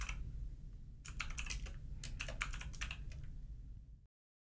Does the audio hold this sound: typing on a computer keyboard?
yes